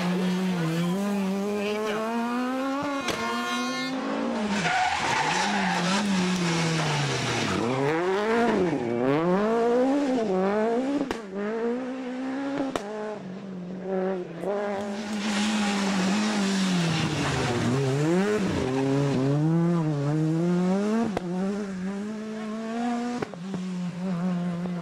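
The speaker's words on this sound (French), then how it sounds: "La Citroën de Johan Bonato et la Renault de Cédric Robert se disputent la première place." Citroën and Renault rally cars in the 2005 French asphalt championship, Rouergue round, engines revving and rising and falling through gear changes, loud and close, with squealing tires skidding on tarmac.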